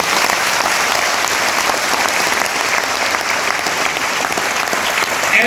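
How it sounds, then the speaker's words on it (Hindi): Loud, sustained applause from a large audience at a NEET exam coaching event, a dense, steady wash of clapping that continues throughout with no talk over it. "दोस्तों ताली बनती जोरदार वाली।"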